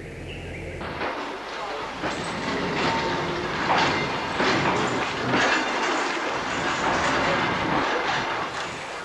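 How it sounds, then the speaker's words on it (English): A train on the Kuranda line rumbles steadily along the track, wheels clattering rhythmically with metallic squeals and a loud, continuous roar nearby. "As one of the trains returns to Cairns"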